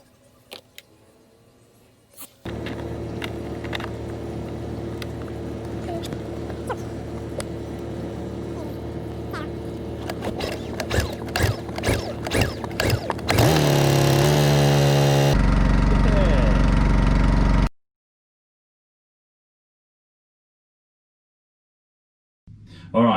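Honda outboard engine on a catamaran sputters briefly, then catches and runs with a loud steady hum, revving up before cutting out abruptly into silence.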